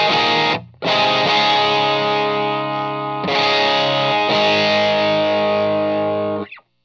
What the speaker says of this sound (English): when G1 is engaged, that's where you have the kind of overdrive, the soft clipping mode